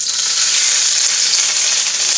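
Vegetables for fried rice hit hot grease and fry with a loud, steady, bright sizzle that holds evenly throughout, close and alone with no voices.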